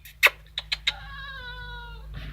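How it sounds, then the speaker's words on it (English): A stray cat trapped in a garden shed gives a few short meows, then one longer drawn-out meow, close and fairly quiet. "I don't know how to get this cat out of my fucking shed"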